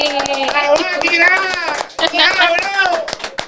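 A studio audience claps and cheers for a singer's entrance on a television show, with close, loud, rhythmic clapping and voices shouting over it. The clapping dips briefly midway, then surges again.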